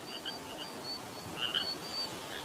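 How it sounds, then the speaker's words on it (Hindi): Faint frogs calling in the distance, thin repeated chirping croaks over a quiet hiss of night ambience. "बाहर से मेंढकों की आवाज आ रही है"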